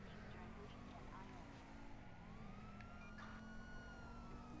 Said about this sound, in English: That sounds very quiet, by the way, that siren.